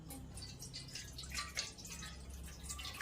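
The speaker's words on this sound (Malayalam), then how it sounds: "അര ലിറ്റർ പാല് പാനിലോട്ട് ഒഴിച്ചു കൊടുക്കാം" Half a litre of milk is poured softly into a pan, a faint trickling and dripping of liquid close by, with no talking.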